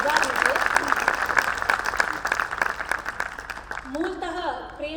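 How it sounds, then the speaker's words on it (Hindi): An audience at a Hindi poetry gathering in Indore applauds a guru with steady clapping, and a voice speaks or sings over it toward the end. "एक बार गुरुजी के लिए तालियां आप बजा दीजिए"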